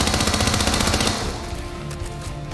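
Rapid bursts of submachine gun fire from Hitman 2, loud and dense for about a second before thinning into scattered shots and a lingering echo.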